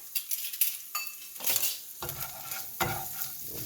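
Chickpea salad seasoned with oregano and cayenne being stirred and fried in a pan, with a soft continuous sizzle and scraping stir strokes that swell and fade in a few waves.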